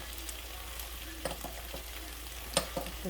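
Steady sizzling of garlic and onions frying in a pan, with a few sharp clinks and scrapes of stirring near the end.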